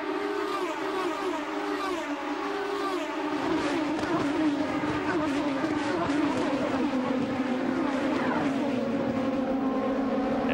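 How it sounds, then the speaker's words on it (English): IndyCar race cars at Watkins Glen roar past under green-flag racing, with loud, continuous, high-pitched engine whine and shifting Doppler pitches that swell midway, while a commentator talks over the noise. "We're back to green flag racing here at Watkins Glen."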